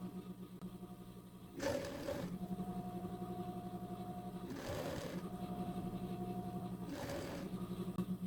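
A sewing machine runs in steady bursts while stitching a T-shirt seam, its rapid needle hum broken by short pauses and restarts, close and clear with no speech.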